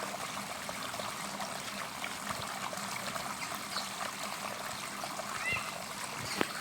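Water is released into a spectacled cobra's hiding spot during a snake rescue in Dharwad, giving a steady trickling and splashing flow that stays fairly even throughout, with faint background murmur.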